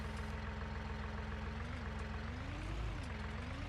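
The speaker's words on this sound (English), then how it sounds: "If I do get a little bigger tractor, I'm gonna miss how small and maneuverable this little Massey is." Small Massey tractor engine idling in Farming Simulator 19, a steady low rumbling drone that holds even throughout, heard alone.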